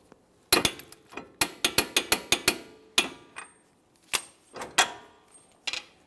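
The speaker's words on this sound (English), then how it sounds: "Now that I have that snug, I'm going to torque this to 180 foot-pounds." A torque wrench ratchets in quick clicking bursts, fast runs and then single clicks, while tightening the CV axle nut on a 2014-2018 Mazda 3. Close, crisp and alone.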